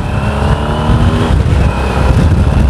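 A Yamaha Super Ténéré 750 motorcycle engine runs loud and close, its carbureted twin throbbing steadily with a slight surge in revs partway through, no talk over it.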